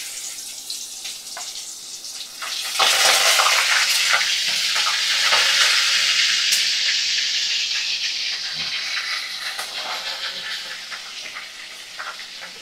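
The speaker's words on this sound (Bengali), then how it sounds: "তো এগুলোকে আমি দেখো তেলের মধ্যে ভাজা করে নেব।" Salted, turmeric-rubbed koi fish drop into oil over a medium gas flame, setting off a loud, close sizzle that surges at about three seconds and then fades slowly, with no talk.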